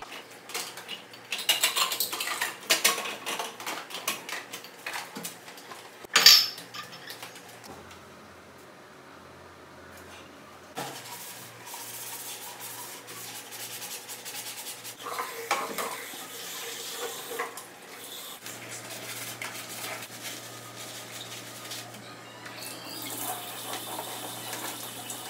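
Dishes are washed at a kitchen sink in an apartment, with running water, clattering and scrubbing that come in bursts, loud at first and then softer and more even.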